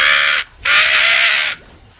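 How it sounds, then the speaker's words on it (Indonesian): Crow caws in the Mobile Legends video game: two loud, harsh cawing calls, a short one followed by a longer drawn-out one, clear and close with no talk. "Burung sugana tadi"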